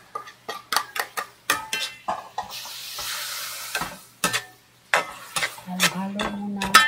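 Noodles are stirred in a pan with soy sauce and salt, giving a rhythmic run of close utensil scrapes and clacks over a soft, steady sizzle.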